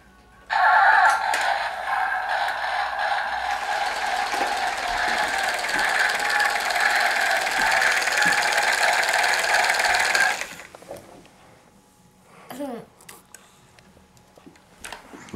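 A toy tractor's button triggers a loud, continuous mechanical engine-like effect that runs for about ten seconds, then cuts off, leaving quiet clicks and small handling noises.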